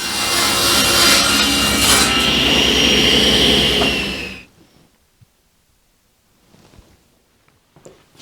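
Woodworking sawing that takes about 3/8 inch off a piece for a stand built to hold a 1930s Craftsman bandsaw. A loud, steady, close cutting whine with a rasping edge runs for about four seconds, then stops abruptly, leaving near silence with faint small knocks.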